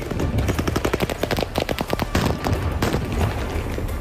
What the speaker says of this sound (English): Gunfire renting the air and smoke filling the scene